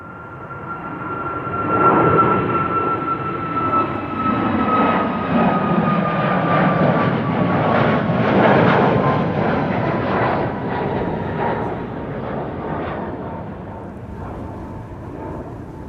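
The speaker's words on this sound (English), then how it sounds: "Airplane landing in the background and an airplane leaving here in the foreground." Airliners at Amsterdam Schiphol Airport, one landing in the background while another takes off nearby, giving a loud, rumbling jet roar with a falling whine that swells and slowly fades.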